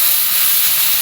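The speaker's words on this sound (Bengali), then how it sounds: "কেটে রাখা আলুগুলো এবার সব দিয়ে দেবো।" Cut potatoes hit hot oil in a pan beside fried onions and chillies, setting off a loud, steady hiss of sizzling that fills the brief moment without pause.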